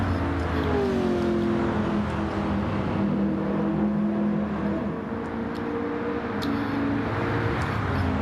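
Race car engines in Gran Turismo 7, with two Ford Mustangs battling for the lead, drone steadily as cars drift through a corner, a continuous close engine whine rising and settling with no talk.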